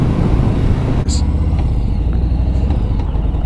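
A 2017 or 2020 Harley-Davidson Street Bob motorcycle pulls hard in first gear, heard as a loud, close, rumbling engine roar that is steady throughout with heavy wind noise.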